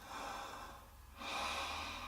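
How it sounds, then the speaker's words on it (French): Calm belly breathing: one slow, audible inhale followed by a long, soft exhale, close and quiet with no talking. "Essayez plutôt de respirer avec votre ventre."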